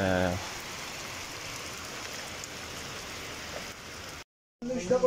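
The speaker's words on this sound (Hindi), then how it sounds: "चिलम पॉइंट ही बारिश हो रही है" Steady hiss of rain falling at Chilam Chowki, a constant wash of noise that cuts out briefly near the end before resuming.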